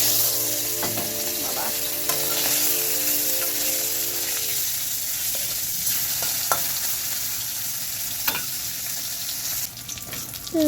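Fish coated in salt and turmeric fries in hot oil in a pan: a loud, steady, crackling sizzle throughout with a few utensil taps and a clatter near the end.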